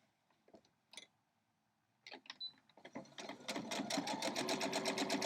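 After a few scattered clicks and handling taps, a sewing machine starts up and runs steadily with a fast, close, rhythmic stitching whir while seaming a quilt block.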